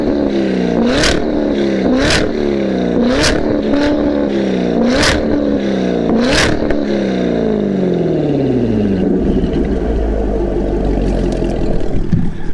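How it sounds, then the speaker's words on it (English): A C7 Corvette Z06 fitted with a Corsa Extreme axleback exhaust and X-pipe revs hard six times in a steady rhythm, each sharp blip rising and falling, then settles into a loud rumbling idle, close and with no talking. "let's see how loud Andy's Z06 is with that Corsa Extreme Axleback and the XPipe."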